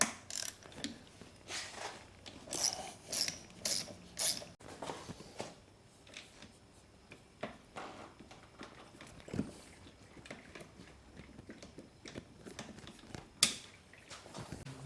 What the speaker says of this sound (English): next I'm going to remove the kickstarter